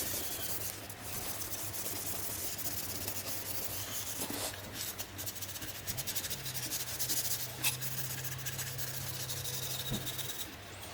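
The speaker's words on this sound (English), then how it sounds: "I'm just gonna start sanding this with the red Scotch-Brite" Steady abrasive rubbing of a red Scotch-Brite pad sanding a guitar body, continuous and close, with a constant low hum running underneath.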